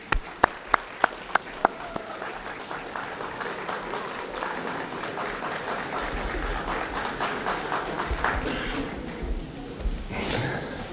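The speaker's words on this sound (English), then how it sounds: "give them a round of applause" An audience at a morning graduation ceremony breaks into sustained applause after a few sharp opening claps, steady for several seconds before tapering off.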